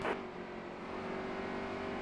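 Race car engines in the Nascar Heat 3 video game, played in career mode on Xbox One, hold a loud, steady, continuous drone with a constant pitch throughout the short stretch and no voices over it.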